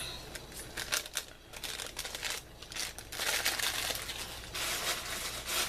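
Crinkly plastic rustling close to the mic, in irregular bursts that swell louder toward the end, with no talking.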